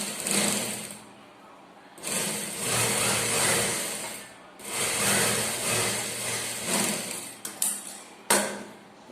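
Close sewing machine stitching a plain blouse, running in long loud bursts with short pauses between, the whirring motor steady through each run and a few sharp clicks near the end.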